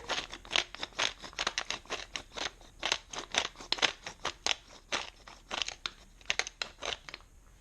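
A hand pepper grinder cranks over a bowl of deviled egg filling, giving a close, quiet series of crunchy, crackling grinding strokes in an uneven rhythm.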